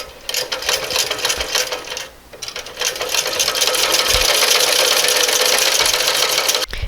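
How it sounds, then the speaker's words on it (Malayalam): Electric sewing machine stitching the umbrella skirt onto the yoke kurti top, running in a steady, close, continuous whirring burst with a brief slowdown partway through and a stop at the end. "ഇപ്പോൾ നമ്മൾ സ്കേർട്ടും ടോപ്പ് പോർഷനും തമ്മിൽ തയ്ച്ചു കഴിഞ്ഞു"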